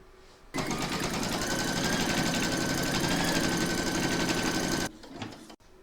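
An embroidery machine steadily stitches a placement outline on fabric for a large double-sided Santa applique, a loud, fast, even mechanical whirring that starts abruptly, runs for about four seconds and stops.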